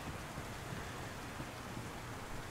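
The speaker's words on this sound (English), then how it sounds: "This is where the rain actually benefits us." Rain in the video game DayZ, a steady dense hiss of falling rain with a low rumble underneath, unbroken and even throughout.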